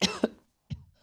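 A few short, sharp coughs close by, two quick bursts then a third after a brief pause, with nothing else around them.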